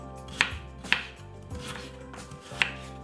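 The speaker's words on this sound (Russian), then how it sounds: "Картофель нарежем не очень крупно, вот таким образом." A knife chops potatoes on a cutting board for rassolnik soup: several sharp, close knocks at irregular intervals with quieter handling sounds between.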